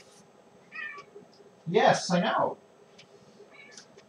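A cat meows loudly in a short run of cries, with a couple of softer meows before and after, close by in a kitchen while someone talks over it.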